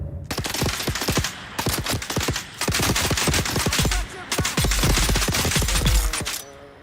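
Rapid bursts of automatic gunfire in the survival game Dune Awakening, loud and close, coming in several long volleys separated by short pauses.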